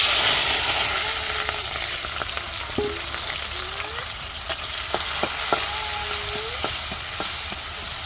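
Oil sizzles in a cooking pan in a home kitchen, a steady loud hiss with a few sharp clicks and faint tonal sounds in the background.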